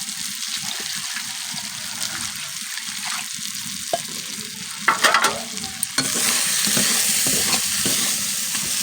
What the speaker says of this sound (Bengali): ওই জন্য 5 মিনিটের মতো একদম কষে নিব